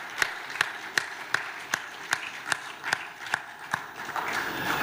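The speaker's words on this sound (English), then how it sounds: "so we can give a big round of applause" Sparse, evenly spaced claps ring out at a steady beat over a low room hum at a panel discussion, sounding like a small audience clapping in a slow, regular rhythm.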